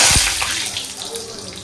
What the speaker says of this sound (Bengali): শাক ধুতে ধুতে আমার অবস্থা খারাপ হয়ে গেল, কি বালি ছিল